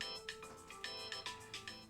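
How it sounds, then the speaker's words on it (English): A phone ringtone plays in a series of rhythmic electronic chirps, about seven quick pulses in two seconds, fairly faint in a quiet room with no talking. "That was my phone."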